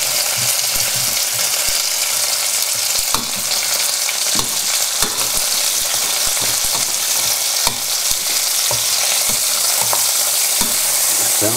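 Chicken pieces sizzle loudly in a hot pan while being flipped and moved, a constant close frying hiss broken by frequent scrapes and knocks of the utensil.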